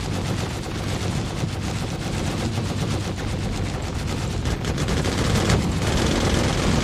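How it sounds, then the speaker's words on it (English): Heavy continuous gunfire from a spaceship's guns in a Star Citizen-style space combat game, a loud dense barrage of rapid shots with no pauses throughout. "All guns fired target UES Brighton"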